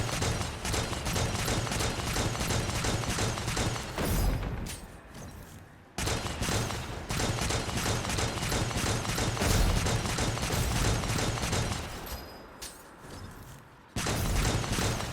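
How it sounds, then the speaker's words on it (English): Gunfire in Destiny 2 from the Wither Horde and a scout rifle comes as rapid, dense bursts of shots, broken by a few brief pauses between volleys. "The Wither Horde and my scout rifle should take it out pretty quickly."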